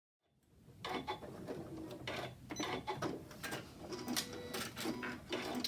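Sewing machine running a short locking stitch on a small cork fabric chapstick holder, a steady mechanical whirring with rapid needle clatter, close and continuous without speech.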